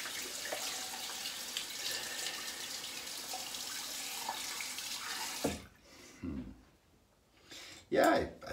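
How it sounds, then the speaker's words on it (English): Water gushes from a faucet in a steady, loud stream for about five seconds, then shuts off, followed by quieter splashes, handling sounds and a voice speaking. "Pardon the faucet."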